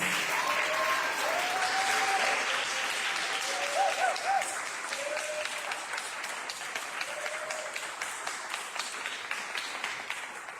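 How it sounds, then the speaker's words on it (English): An audience applauds the participants of an oratorical contest, sustained steady clapping filling the room for about ten seconds, with a few faint voices threaded underneath. "Let's give a big round of applause for all of our amazing participants."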